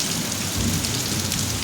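Heavy rain pours down in a dense, steady broadband rush, loud and close, with no voices over it.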